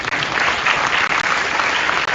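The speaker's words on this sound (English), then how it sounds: "I need a big round of applause." Strong, dense applause from an audience at an inauguration ceremony, a loud continuous roar of many hands clapping, broken by a few brief dips and with no talk over it.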